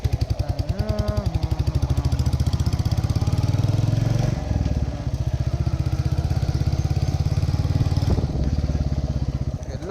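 An old Royal Enfield Bullet 350 on the move, its single-cylinder engine thumping in a loud, steady rapid beat close to the microphone, with brief shifts in pitch as the throttle changes.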